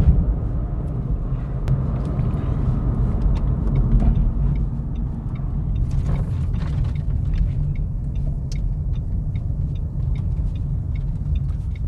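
Heard from inside the cabin, a brand-new Renault Clio with a 1.0-litre engine drives along as a constant low road and engine rumble, with small creaks and light ticks over it and no one speaking.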